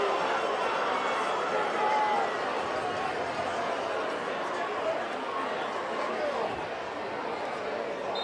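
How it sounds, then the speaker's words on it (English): High school football crowd in the stands murmuring and grumbling, a dense, steady wash of many distant voices with no distinct cheers, continuous throughout. "Hear the crowd not very pleased with what was just said."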